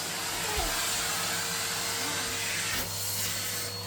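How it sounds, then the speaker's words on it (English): A Henry Hoover vacuum cleaner runs with a steady, loud, broadband whooshing drone that holds throughout, briefly dipping near the end, with no one talking. "The heat from the Henry will clear you up."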